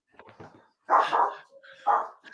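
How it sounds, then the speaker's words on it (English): A dog gives a few short barks and yips with a whimpering edge, near and moderately loud, with quiet gaps and faint murmuring between them. "The dog doesn't like Keith Earls"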